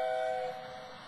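A toy-like little blue engine gives a short tonal whistle blast, bright and steady, then cuts off into a fainter hum.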